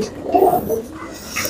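Pigeons in a large fancy pigeon loft give a close, low cooing burst that trails off. Some soft background noise sounds underneath.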